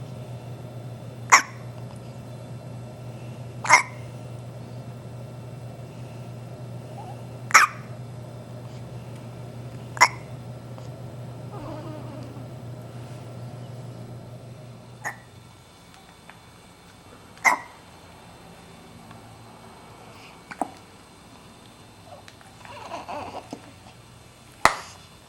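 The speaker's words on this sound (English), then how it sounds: "Who knew that hiccups could be so fascinating?" A baby hiccuping, brief sharp hiccups spaced every few seconds across the whole stretch, close and distinct over a low steady hum that stops midway, with no talking.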